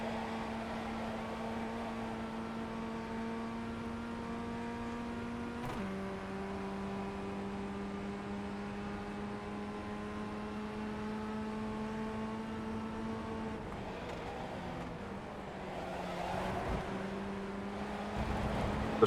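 A Formula Ford race car at Road Atlanta drones at high revs from onboard, with a steady buzzing engine note. It dips in pitch at a couple of gear changes while other cars race close by.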